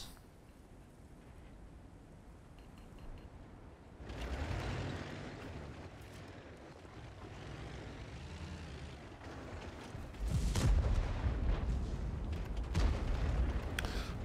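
Artillery fire in a World of Tanks battle: distant low booms and rumbling impacts rise out of a quieter background around midway and grow heavier toward the end.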